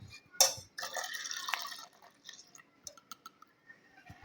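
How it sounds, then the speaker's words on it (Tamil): A potato and licorice mixture for homemade soap is poured into a container, giving a brief close liquid splash followed by soft trickling, wet dripping and small clicks that fade out. "இப்போ நம்ம இந்த உருளைக்கிழங்கையும் அதிமரத்தையும் கலந்து வச்சுருக்கோம் இல்லைங்களா, இதை வந்து நம்ம இதில் ஊற்றிக்கலாம்."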